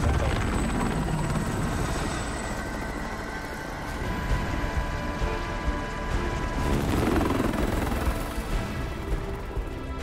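Helicopter in Call of Duty Warzone makes a loud, continuous rotor drone with steady thumping, present throughout over game ambience and faint distant gunfire.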